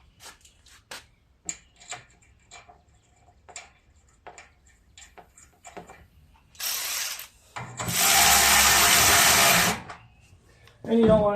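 A ratchet wrench clicks in short spaced strokes while lock nuts are tightened on the gas tank of an 8 horsepower Coleman generator, followed by louder steady mechanical whirring bursts near the end.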